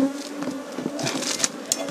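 Bees buzz around a Kenyan-style beehive, a close, continuous hum with individual insects passing near and a few sharp higher whines, no talking.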